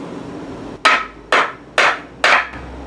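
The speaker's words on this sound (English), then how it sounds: "give it a good couple whacks to get it to get a bite." Four loud, evenly spaced hammer blows strike a threaded spike to start it biting, each a sharp metallic whack with a short ringing decay, heard alone and close up.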